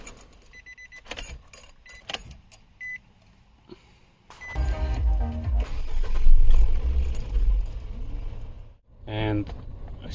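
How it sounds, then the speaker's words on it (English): Keys jingle near the start, then the ignition of a car with a faulty accelerator pedal position sensor (P2127) comes on with a steady hum and a short series of electronic chimes near the end. "Now we're gonna turn on the ignition."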